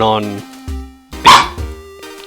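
A dog barks a few times up close, loud sharp yips mixed with a person talking in short bursts.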